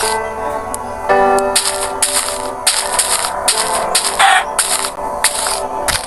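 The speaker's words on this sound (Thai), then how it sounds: "นี่เสียงธนูเวอร์ชันเก่า" A rapid series of sharp, snappy bow shots from the old alpha version of Minecraft, fired one after another in an irregular rhythm, loud and close, over a faint tonal game backdrop.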